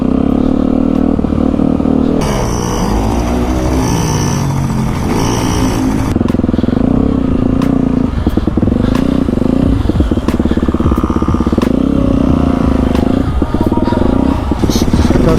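A small child's motorcycle rides steadily, its engine a loud continuous buzz with varying revs and occasional clatter and scrapes, close by, with faint voices now and then.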